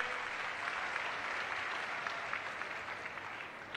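Crowd at a political rally with Chief Minister Chandrababu Naidu breaks into loud, sustained applause, dense steady clapping filling the whole stretch without a break.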